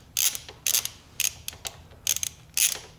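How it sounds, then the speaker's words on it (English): Ratchet wrench tightening 12 mm exhaust bolts on a Yamaha FJ-09 motorcycle, five quick bursts of sharp ratcheting clicks in a steady rhythm, close and clear with no talking. "just get your wrench back there and get that to the point where it locks on that"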